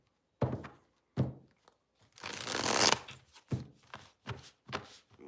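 A deck of cards is riffled and tapped in close, quiet handling: a few soft thumps, then one longer riffling burst, followed by several light taps and knocks, with no talking over it.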